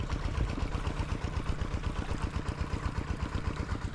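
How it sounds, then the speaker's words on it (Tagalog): A small engine runs a water pump for irrigating calamansi trees, chugging in a fast, even idle rhythm, loud and close, with no voices. "Kaya pinandar na natin yung makina."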